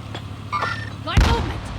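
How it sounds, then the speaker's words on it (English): A grenade explodes in Call of Duty Warzone as a sudden loud boom that lands late in a brief burst of game noise, with a voice talking just before it. "Grenade out!"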